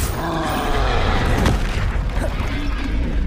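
A Confringo fire spell explodes in Hogwarts Legacy: a loud, dense, sustained blast with rumbling booms and crackling bursts, no clear pauses.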